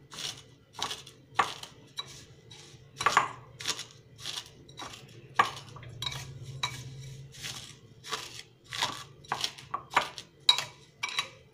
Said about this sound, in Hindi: अब हम एक चम्मच की सहायता से पोहे को हल्का सा क्रश कर लेंगे।